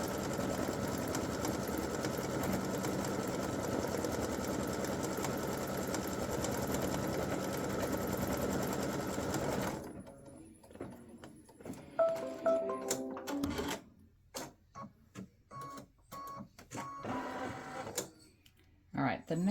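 An embroidery machine stitching an applique Christmas gnome design runs with a steady, dense buzz for about ten seconds, then stops; broken clicks and handling noises follow as a person talks.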